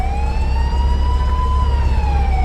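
A loud police siren wails nearby, its tone rising and falling slowly over a low rumbling engine.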